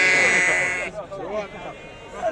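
Sheep bleat loudly at the Azrou livestock market in Morocco, a long wavering close cry followed by shorter calls, with people talking in the busy market around them.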